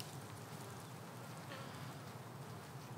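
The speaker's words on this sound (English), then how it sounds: "These bees are hanging." Honey bees festooning in hanging clusters at an open-air hive give off a steady, even buzzing drone, faint and continuous throughout with no pauses and no voices.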